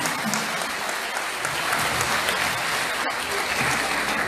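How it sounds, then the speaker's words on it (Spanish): A concert audience applauds steadily, a dense continuous wash of clapping from a large crowd, loud and sustained, with faint voices mixed in. "Y esta noche todos esos aplausos son para la gloria de Dios"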